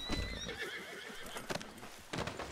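A horse in the video game Red Dead Redemption II whinnies and snorts, and its hooves clop a few times, moderately close in a quiet outdoor setting.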